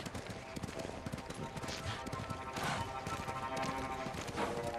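A horse gallops with rhythmic clip-clopping hooves while riding in Ghost of Tsushima, the hoofbeats continuous and mid-distance, mixed with game ambience.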